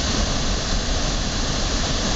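A constant, heavy roar comes from water pouring over the crest of a dam, loud and unbroken from start to finish with no voices or other sounds.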